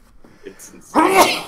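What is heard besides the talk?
sneeze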